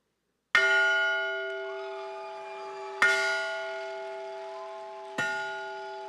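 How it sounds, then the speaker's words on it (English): Three strikes of the Maryville bell at an undergraduate graduation ceremony, each a bright clang followed by a long ringing hum that slowly fades, spaced a few seconds apart and heard alone. "has been selected to ring the Maryville bell today"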